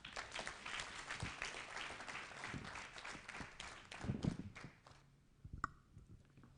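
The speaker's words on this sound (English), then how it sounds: "give him a bigger round of applause" Applause at a graduation ceremony: a large crowd clapping steadily for several seconds, then thinning into scattered claps before trailing off.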